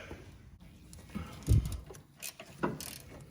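A ratchet snugs a bolt on the front suspension of a third-generation Honda CR-V, producing a few quiet, scattered clicks and a dull clunk in a quiet garage.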